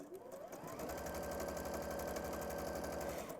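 A sewing machine stitches fabric at a fast, even rhythm, running close and loud without pause through the whole stretch.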